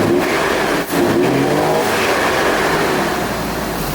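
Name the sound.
Jaguar engine running, V8-swapped and stock V12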